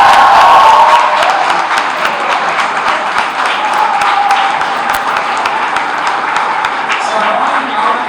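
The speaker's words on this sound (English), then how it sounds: "So I want to round of applause for Nishant." A crowd applauds and cheers at an awards ceremony for NEET exam results, with sustained dense clapping from a large audience, loud and continuous throughout, with voices mixed into the noise.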